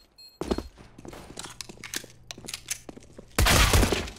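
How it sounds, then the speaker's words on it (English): Gunfire in Counter-Strike: Global Offensive, a string of close sharp shots in an irregular burst, followed by a dense loud volley near the end, with no talk over it. "she's shooting, she's shooting"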